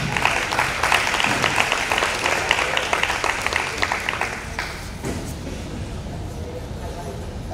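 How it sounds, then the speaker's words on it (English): Audience applause for a mayor at a community meeting about high school construction, fairly loud clapping that thins and fades after about five seconds, leaving room murmur and a voice. "Let's give another round of applause for our mayor."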